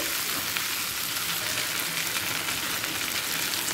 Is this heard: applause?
no